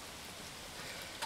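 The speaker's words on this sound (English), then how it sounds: "So I'm lying here listening to the rain" Steady rain falling outdoors, a soft continuous hiss with no distinct drops standing out, faint and even throughout, with one slightly louder patter near the end.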